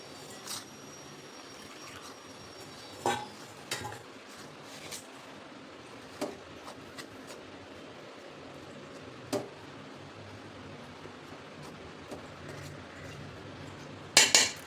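Mango pulp mixed into ghee in a pan for traditional sweet dhonde: quiet, soft scraping and a few spoon knocks against the pan at irregular intervals, ending in a louder clatter.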